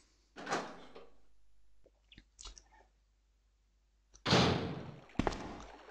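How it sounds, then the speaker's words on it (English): Doors in Resident Evil 2, Leon's playthrough, bang shut: one heavy slam opens, a few small clicks and rattles follow, and two more loud, close slams land near the end. "I noticed they always seem to slam the door shut in this game by the sound effects it makes"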